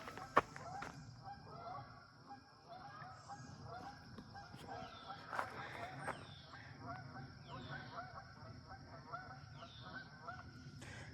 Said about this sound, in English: there's some geese back in there honking